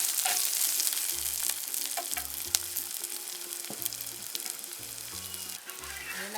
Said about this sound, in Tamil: வெங்காயத்தை போடுவோம். நல்லா வதங்க விடுவாங்க.